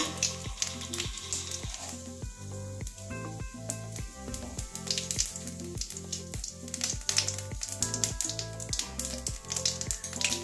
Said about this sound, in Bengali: ফোড়নে গোটা জিরে দিয়ে দিচ্ছি একটু।